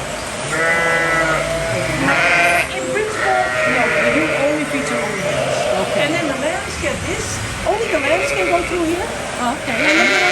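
Lambs bleat repeatedly and loudly in a farm pen, several overlapping wavering calls, with some voices under the calls.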